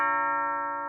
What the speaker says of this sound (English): I do hear a doorbell.